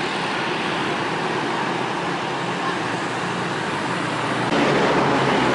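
An NPM Sultan Class bus pulls into Terminal Payakumbuh in the morning, its engine wrapped in a steady, dense roar of roadway noise that swells slightly louder toward the end.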